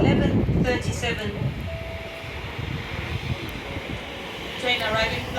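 A train pulls in at a platform at Stratford station, a low rumble and rolling rail noise filling the clip while a voice is heard at the start and again near the end.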